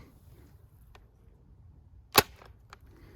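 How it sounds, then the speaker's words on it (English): A Bug Assault spring-powered salt gun fires table salt in one sharp, close snap, with a couple of faint clicks around it and near silence otherwise. "the Bug Assault fires table salt like shotgun pellets, using just the spring of the slide when you rack it"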